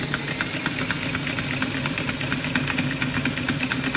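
A six-cycle oddball engine runs roughly without firing properly, a loud, close, uneven knocking chug with rapid irregular beats throughout.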